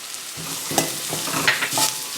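Onion and carrot fry in a pan for vermicelli upma, giving a steady close sizzle broken by scraping stirs of a spoon against the pan, with no talk.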